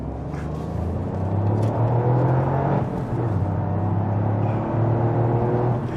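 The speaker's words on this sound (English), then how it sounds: "Give me some of that engine." A Toyota GR Yaris 3-cylinder engine pulls hard on a twisting road of hairpins, a loud, steady rumble with a rising whirring tone throughout.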